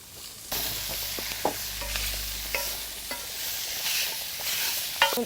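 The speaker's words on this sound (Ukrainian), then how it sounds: "смачно шкварчить, трошки піджариться, пустить жирку" Canned stewed meat sizzling in its own fat in a pan at an outdoor picnic while a Ukrainian potato kulish is cooked, with a loud, continuous fry and occasional scraping stirs.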